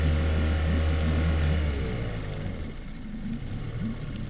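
A Yamaha 75 outboard on a 2005 Rogue 20ft boat runs cold at a steady idle while warming up, its low hum loud and close at first, then settling into a quieter, rougher idle.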